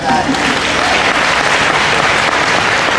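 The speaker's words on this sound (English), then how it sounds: "Seriously, round of applause for that." A convention audience at a Supernatural fan event breaks into a loud, dense round of applause, a steady wash of many hands clapping close throughout.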